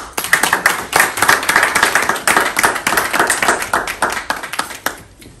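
An audience claps for school catering staff, a dense, steady patter of many hands lasting several seconds, loud and close, fading slightly at the end with no speech over it.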